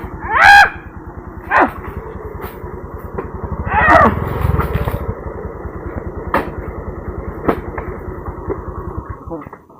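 A motorcycle engine idles with a steady low putter, while brief sharp clanks and a few louder bursts break in over it.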